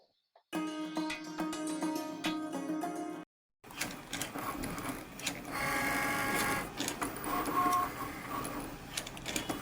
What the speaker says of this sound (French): la machine est en train d'effectuer, bien sûr, le rainage